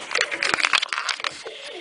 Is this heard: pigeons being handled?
yes